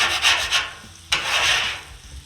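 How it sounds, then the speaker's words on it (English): A metal scraper dragged across a flat-top griddle before toasting sandwich buns, two close, loud rasping strokes, the second longer and starting with a sharp scrape, no talk. "We're just going to scrape the griddle down to get ready for the buns."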